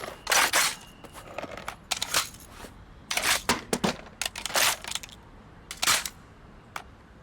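Crisp mechanical clicks and clacks of weapon reloads in the shooter BPM: Bullets Per Minute, coming in quick clustered bursts separated by short pauses.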